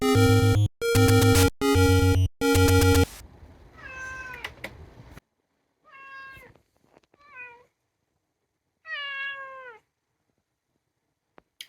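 A cat meows several times in quiet indoor surroundings, with each cry drawn out and clear, preceded by a few loud, bright electronic beeps.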